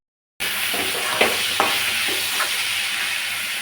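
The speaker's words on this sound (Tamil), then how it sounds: "இப்போ இதை நல்லா வதக்கணும்." Chopped onions sautéing in a pan for a South Indian dish: a steady, close, bright frying sizzle that holds throughout, with a few soft stirring knocks, and no talking.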